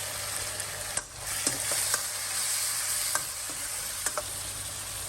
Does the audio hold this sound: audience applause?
no